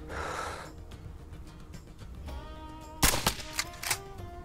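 A rifle fires at a mule deer in a hunting video game: a sharp, loud crack followed by a few echoing reports, after a stretch of quiet breathing-like ambience.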